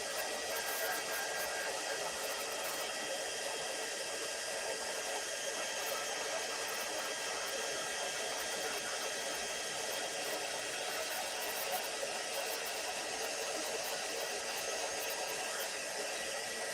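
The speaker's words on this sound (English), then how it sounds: "let me bring in my heat tool here" A heat tool blows steadily while embossing powder on a small tray, giving a continuous even whoosh of hot air that stays close and unchanging throughout, with no talking.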